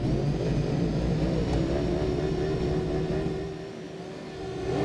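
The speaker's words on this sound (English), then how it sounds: "As soon as the lights come on, the revs are going to go up." Stock 1000 racing motorcycles at Ridge Motorsports Park, a dense wall of engines revving at the race start, with a loud sustained roar and rising pitch that dips slightly near the end.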